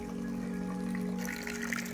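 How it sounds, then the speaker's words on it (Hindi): Mountain stream water flows continuously near Rudrapur village in Uttarakhand's Kedar Valley, a steady, soft rushing trickle heard alone with no voices. "यहाँ ऊपर पहाड़ों की धारे का पानी निरंतर आ रहा था।"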